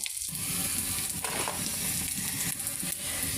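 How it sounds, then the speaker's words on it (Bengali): Garlic frying in hot oil alongside dried chillies: a dense, continuous close sizzle with a brief scrape of stirring partway through, with no voices. "আর এই যে রসুন ভেজে নিচ্ছি"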